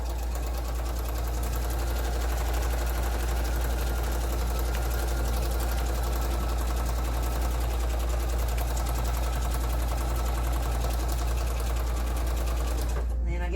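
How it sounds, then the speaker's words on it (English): A sewing machine stitches a feedsack tote seam, running steadily and continuously with a dense mechanical whir right up close, then stopping abruptly at the very end. "then I sew on the outside of the seam I just sewed"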